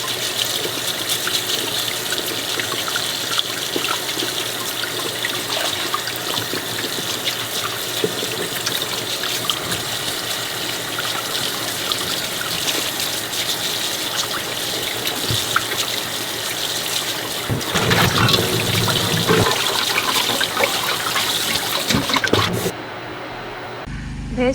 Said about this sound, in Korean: 이 메주가 깨끗하게 다 씻어진답니다